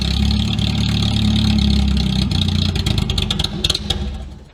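A Toyota 4Runner, left sitting for ten years, runs loudly up close after starting, with a steady idle rumble that turns rough and sputtering, stumbling in uneven pulses before it fades out.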